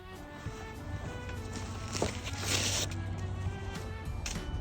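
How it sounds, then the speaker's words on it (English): An Outline 8x12 canopy greenhouse cover is unwrapped close by, with crinkly rustling of light plastic and fabric that swells into a brief louder burst of crackling handling noise. "the first thing you want to do is unwrap the canopy cover."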